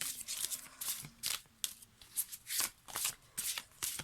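Tarot cards are shuffled and drawn in a repeated run of crisp, close riffling bursts and soft slaps at an uneven rhythm, with no talking.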